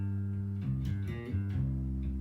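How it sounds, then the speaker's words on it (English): Bass guitar played normally with round, warm tones, a few sustained low notes sliding into one another, moderately quiet and alone. "normally bass playing sounds like this"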